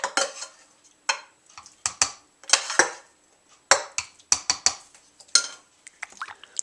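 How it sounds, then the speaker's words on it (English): Spoon scooping hot liquid for scalloped potatoes and ham into a pot, heard as a string of sharp metallic clinks and scrapes against the pot, coming in irregular bursts with short quiet gaps between them. "Make sure you grab your spoon so you can just scoop it in there."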